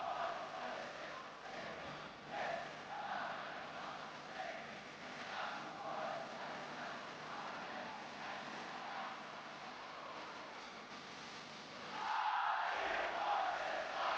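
A wrestling event crowd overseas cheers and roars from a distance, a faint, muffled arena din rising and falling, with a louder surge near the end.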